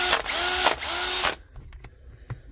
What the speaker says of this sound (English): we'll probably have to slam her onto a drill